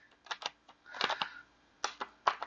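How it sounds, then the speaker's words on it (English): Tarot cards being shuffled by hand, a quiet run of crisp riffling snaps and flutters arriving in short bursts with pauses between, close and alone. "The cards are not wanting to shuffle."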